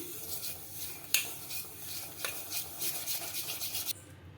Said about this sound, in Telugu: ఇలా నెయ్యి అంతా నెయ్యి చక్కెర కరిగిపోయే వరకు ఇలా కలిపేసుకొని